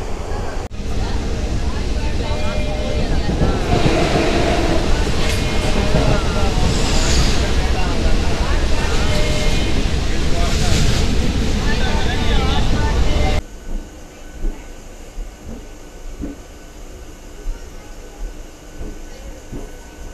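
A MEMU express passenger train rolling on rails between Tirupati and Pondicherry, a loud continuous interior rumble and rattle that drops sharply to a quieter hum near the end.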